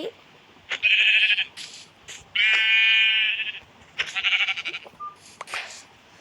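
Sheep in the Minecraft video game bleat repeatedly: several loud, shaky, nasal calls, some long and some clipped short, come one after another with brief gaps.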